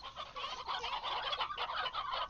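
Chickens in the video game Slime Rancher cluck and squawk in a dense, overlapping flock, a busy continuous chatter of many birds at close range with no voices.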